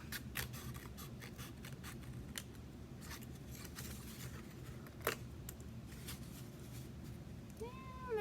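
Scissors snip through a paper plate in a quiet room, a brisk series of sharp crisp cuts at an irregular pace, faint and close, with a short high squeak near the end.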